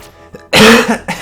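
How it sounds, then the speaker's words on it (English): A person gives a couple of loud, close coughs with throat clearing, in short harsh bursts after a moment of near silence. "Keep coughing."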